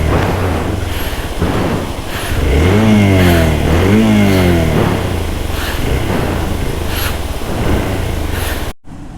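Motorcycle engine revving hard in repeated rising and falling surges, loud and close, with a jammed gear and failing clutch plates on a mountain ride in Himachal, cutting off abruptly near the end.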